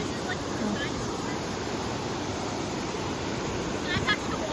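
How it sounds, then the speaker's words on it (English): Rushing water from a river waterfall, a steady loud broadband roar filling the whole clip with no break, close to the listener. "No, this is like a waterfall."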